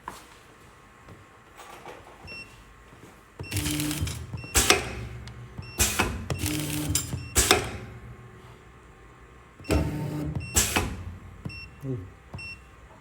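A sauce packaging machine cuts pouches with a run of sharp mechanical clacks and bursts in uneven clusters, loud and close, separated by quieter hum, with no talk over it.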